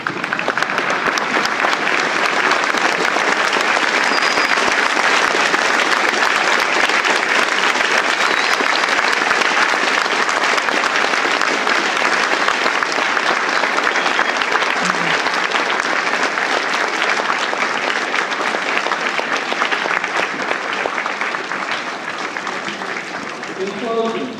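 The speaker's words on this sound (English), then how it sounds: "I encourage you to stand and give each one of them a round of applause" A loud, sustained round of applause for JROTC honorees at Brewer, dense clapping from a standing audience that continues unbroken for about twenty-five seconds before easing slightly at the end.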